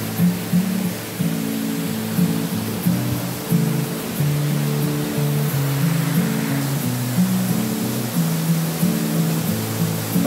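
A steady, loud rush of falling water at Cachoeira de Cafundó waterfall in Ubajara National Park, Ceará, fills the whole clip, broad and continuous, with a low droning hum running underneath.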